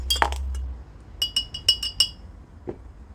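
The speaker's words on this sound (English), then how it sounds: "So give that a stir." A metal utensil stirs dye in a glass jar, making one early clatter and then a quick run of four or five bright clinks against the glass, close and clear, with a soft knock at the end.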